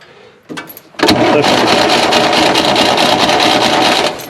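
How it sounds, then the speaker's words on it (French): A 1960 Panhard PL17 engine cranked by a starter wired straight to the battery: a few short clicks, then a loud, steady churning crank with a regular rhythm for about three seconds before it stops, no talk. "je branche la batterie, j'ai mis un fil au démarreur"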